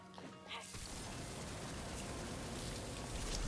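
Rain spell in a video game: after a brief quiet moment, a sudden steady downpour of rain hiss begins and continues, dense and even, with no talking.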